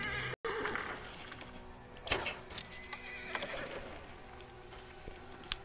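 A horse neighs sharply in the video game Assassin's Creed Origins, a loud whinny rising over hoof clatter, bird calls and ambient game noise, with no talking.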